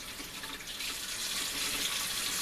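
Brine drains off pieces of corned beef, a steady loud hiss of running, splashing liquid like water pouring into a sink, continuous and close with no voices.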